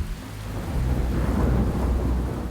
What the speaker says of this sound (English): As the rain lashes down and skies rumble ominously